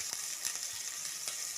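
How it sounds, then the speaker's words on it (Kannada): Chopped onion fries in oil in a pan while okra sambar is being made. A steady, close sizzling hiss plays alone, with no talking. "ಆ ಈರುಳ್ಳಿನ ಹಾಕೋಬೇಕು. ಹಾಕೊಂಡು ಇದನ್ನು ಸ್ವಲ್ಪ ಫ್ರೈ ಮಾಡ್ಕೋಬೇಕು."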